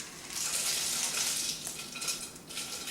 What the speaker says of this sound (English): So I'm going to put my dry beans in.